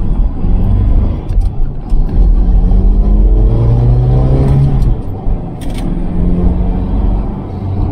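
Mk3 Ford Cortina driving through a city, heard from inside: a loud, steady low engine rumble and road roar with slight rises in revs, continuous throughout and with no voices.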